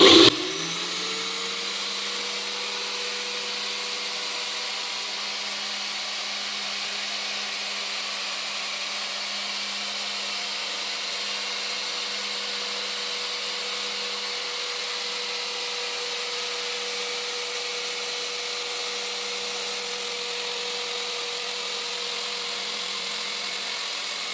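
An automatic tile cutter's electric motor whirs continuously at an even pitch, starting abruptly and holding constant without pauses.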